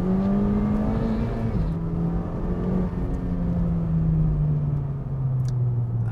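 A new Honda Civic Type R's engine revs loudly and steadily, a continuous droning growl with a slight pitch dip partway through and no talk over it.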